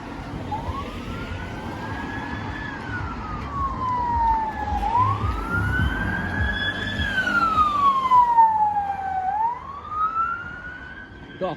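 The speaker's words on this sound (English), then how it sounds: "Got a police car, police van flying down the road." Police car and police van speeding down a road with a wailing siren rising and falling in long sweeps, passing nearby over traffic noise and light rain.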